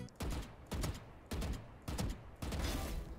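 Gunfire in Valorant sounds as five loud, evenly spaced bursts about half a second apart, each ringing briefly, with no talking.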